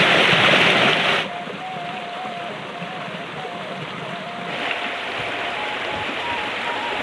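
Running water flows steadily beside a rice-field hut in rural West Sumatra, a loud broadband rush that is heaviest at the start and then continues evenly.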